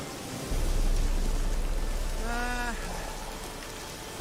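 Steady rain falls in The Witcher 3, a dense hiss that starts abruptly and holds loud and even, with a short tonal game sound rising briefly partway through.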